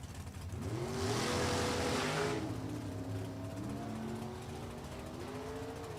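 Drag racing at a dragway as a 1959 Corvette Roadster and a 1927 Ford Roadster run, engines roaring loudly with rising and falling revs over a broad rushing noise, heavy in the first half and then settling into a steady drone.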